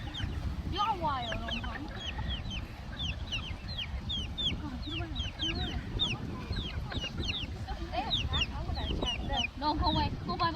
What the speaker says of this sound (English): Like wild chicken. You're wild